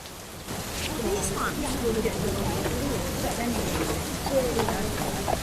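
Steady, continuous rain falls as an audio drama sound effect, a dense even hiss that runs throughout with a faint voice beneath it.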